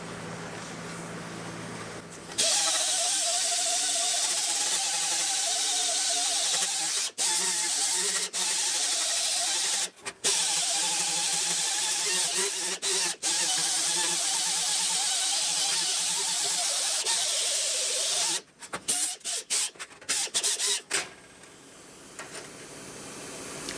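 An 80 grit Roll Lock disc on a power sander grinds the edges of thin sheet metal in a loud, steady, hissing whine that runs almost unbroken, with brief dips, before ending in a few stuttering bursts.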